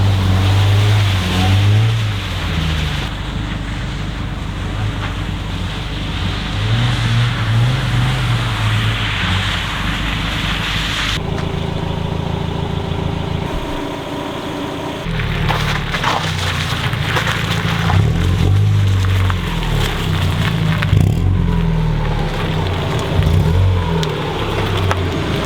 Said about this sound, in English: What do you guys say I take the Miata for a quick spin down the road?